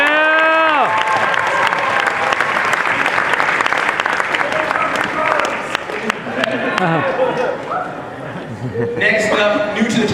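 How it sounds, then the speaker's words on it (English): Convention panel crowd at San Diego Comic-Con applauding and cheering loudly for a voice actor, dense sustained clapping with whoops, while an announcer talks over it and the noise gradually settles. "Let's give a big round of applause for Fred Tanishan"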